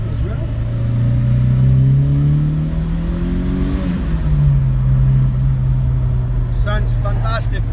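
A 1972 Alfa Romeo Giulia 1300 Junior engine revs up and down in two surging pulls on a test drive, loud and close, with a brief voice near the end.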